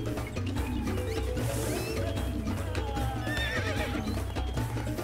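A horse neighs loudly in the Warriors Orochi video game during a Shu dynasty campaign battle, its whinny rising over steady game music and the clatter of hooves.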